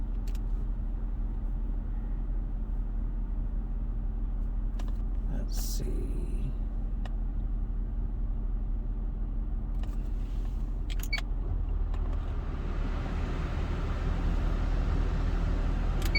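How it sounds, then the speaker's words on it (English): Rush hour road traffic heard from inside a Jaguar XK8, a steady low rumble of engine and road noise with passing vehicles, a few clicks and someone speaking briefly. "rush hour traffic"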